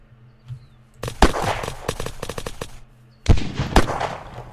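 Video game arena gunfire comes in two loud bursts of rapid shots, close by, with a short quiet gap between them and no talking.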